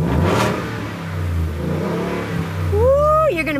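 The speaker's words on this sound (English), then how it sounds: "Here's the exhaust." Supercharged 5.0-liter V8 in a Roush Ford F-150, exhaust set to custom mode, revving loudly up close with a deep rumble and a sharp climbing rev near the end.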